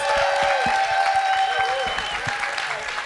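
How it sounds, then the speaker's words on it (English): Audience applause for a panel at a day-of-learning event on archives, steady and dense across the room with a sustained tone and some voices underneath. "Let's give our panelists a round of applause."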